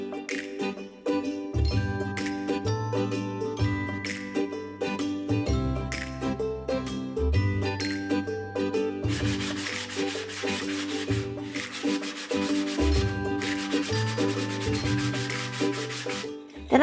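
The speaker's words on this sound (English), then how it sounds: "I'm alternating between steel wool and sandpaper." A carved Victorian corset busk is rubbed by hand with steel wool and sandpaper, making a steady scratchy rasp in repeated strokes. Background music plays throughout, and the sanding grows denser in the later stretches.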